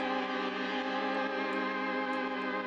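A sustained synthesizer pad chord holds steady throughout, warm and layered with bright upper harmonics, playing alone at an even level.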